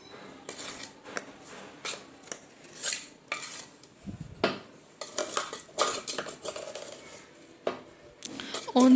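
A spoon scraping and clinking against a bowl as gond powder is mixed into ragi flour, irregular close metallic taps and scrapes in bursts, no talking.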